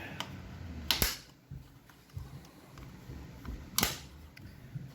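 Plastic air filter cover clips on a John Deere compact tractor snap into place twice, two sharp close clicks about three seconds apart over quiet background shuffling.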